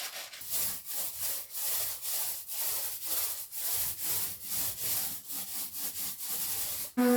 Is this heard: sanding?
yes